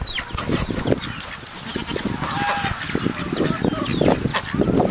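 Several chickens and ducks cluck, honk and quack in a busy, close chorus, with overlapping calls throughout.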